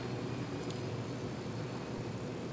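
Helicopter in the Ghost Recon Wildlands video game, heard as a steady, loud broadband engine and rotor drone that runs unbroken and alone for the whole stretch.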